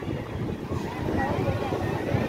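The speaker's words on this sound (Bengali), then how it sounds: "কি ঢেউ, সাংঘাতিক।" Rough, churning sea waves at Puri beach, a continuous low roar of surf buffeted by wind noise on the microphone, loud and close.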